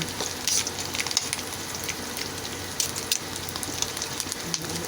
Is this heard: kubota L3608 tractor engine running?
no